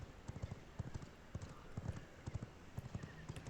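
Horse hooves gallop in the video game V Rising, a quick, rhythmic clip-clop of repeated hoofbeats at moderate level, steady and close, with no voices.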